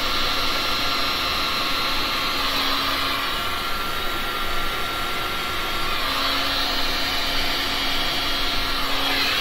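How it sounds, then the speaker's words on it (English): An air blower pushes resin across a resin pour painting, giving a steady, loud, close rushing whoosh that holds without a break, with a faint tonal hum riding underneath and no voices. "I'm just blowing it back towards the middle"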